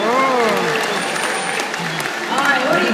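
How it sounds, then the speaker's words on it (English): Zoo audience applauding at a Brookfield Zoo animal presentation, a steady wash of clapping from the crowd that holds loud throughout, with a voice and harmonic tones faintly present underneath. "we're going to go for a round of applause and see how you do."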